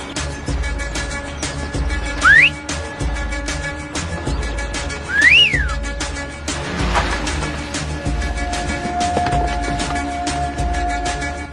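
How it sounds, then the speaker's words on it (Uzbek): A person whistles two short rising notes, a few seconds apart, near and fairly loud, over a steady low rumble of background noise. "Nega bu yerda hushtak chalyapsan?"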